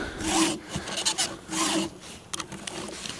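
A chainsaw chain's teeth being sharpened with a file: close, rhythmic rasping strokes in repeated bursts of about half a second, with no talking.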